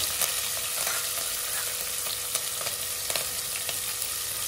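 Dried red chillies fry in a pan for pabbiyam kichidi with a continuous close sizzle, dotted with small crackles and pops and occasional stirring, and no voices.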